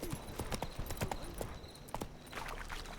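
Horse hooves trot briskly in The Witcher 3, a short burst of crisp, irregular clip-clop beats close up with a little ambient game noise.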